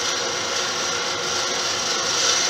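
Wood lathe taking a finishing cut on an antler pen blank for a slimline click pen, a steady close scraping, hissing whir of the tool against the spinning antler with a faint mechanical ratcheting texture, continuous with no talk.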